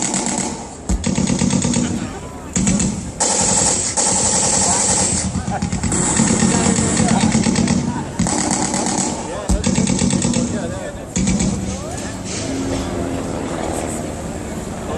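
Replica WW1 biplanes, a BE-2 and Junkers, dogfighting at an air display with simulated machine gun fire: droning aircraft engines and rattling bursts, loud and continuous, with a commentator talking over them throughout.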